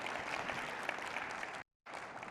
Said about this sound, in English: So a big round of applause for my more junior colleagues who gave phenomenal talks.